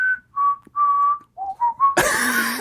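Whistled melody from the Deadly Premonition video game soundtrack, a clear tonal tune of several sustained, gliding notes, then a burst of broadband noise near the end.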